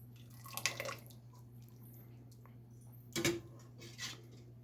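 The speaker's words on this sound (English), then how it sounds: "I'm just going to set this up to drain here." Whey dripping from draining raw-milk cheese curds, with a few soft, separate drips and splashes heard close up over a quiet hum.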